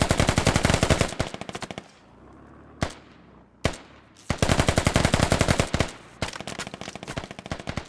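A SAW machine gun fires in the multiplayer shooter Squad, long rapid automatic bursts broken by a short pause with a couple of single shots, loud and close, no voices.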